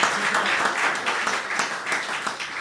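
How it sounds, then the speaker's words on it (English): An audience at an anniversary celebration applauds the moderator with sustained, even clapping from many hands, moderately loud and unbroken. "Give him a round of applause."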